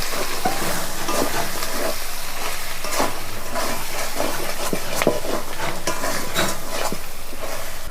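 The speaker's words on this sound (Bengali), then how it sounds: "দিয়ে এবার আমি ভালো করে নাড়াচাড়া করে ভালো করে কষিয়ে নেব" Jackfruit curry with added salt sizzles loudly in a pan as it is stirred and sautéed, with constant frying hiss and repeated scraping and clinking of the spatula close by.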